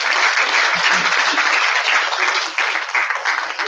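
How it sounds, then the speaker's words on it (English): A conference crowd at a construction expo applauds warmly, a dense, even wash of clapping that holds steady and loud for the whole stretch before easing slightly. "Warm round of applause, please."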